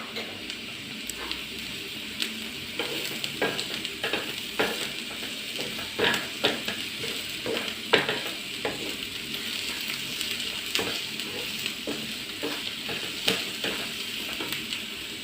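Sliced onions soften in a hot pan with a steady moderate sizzle, while frequent sharp scrapes and taps of a spoon stir them throughout.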